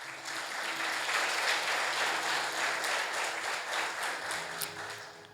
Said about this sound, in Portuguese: Se você está entendendo, aplaude a Jesus.